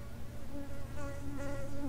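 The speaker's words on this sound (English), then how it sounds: "I can hear a little insect buzzing around me." A small insect buzzes close by on a hiking trail in Sedona, Arizona, its whine wavering in pitch as it moves around, over a low outdoor background hum.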